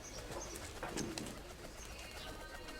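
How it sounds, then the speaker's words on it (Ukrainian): Soft cooing of pigeons comes through faintly, a few low throaty calls amid quiet background rustle. "голубенятка"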